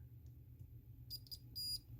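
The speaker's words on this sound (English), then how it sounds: "using a continuity checker, let's get that continuity so you can hear the beep" A continuity checker tests a wire on an HO-scale Kato RS3 model locomotive, sounding a few short, high electronic beeps in quick succession, then a longer tone, faint against a low background hum.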